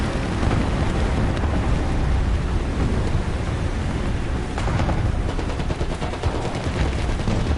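Continuous battlefield gunfire in War Thunder, rapid machine-gun rattles and heavier booms layered over a loud rumbling background, unbroken throughout with denser bursts toward the end.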